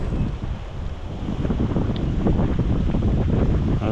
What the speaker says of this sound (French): Un petit vent de sable.